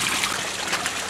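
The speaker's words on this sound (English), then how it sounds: "as you can see, it's cascading." Water cascades steadily out of a homemade biological koi pond filter, a continuous close splashing and trickling rush with no voices.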